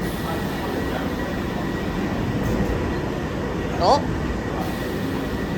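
A London Underground Piccadilly line train between Green Park and Charing Cross rumbles steadily inside the carriage, a dense low roar with a faint high whine and a brief squeal partway through, while a voice briefly speaks.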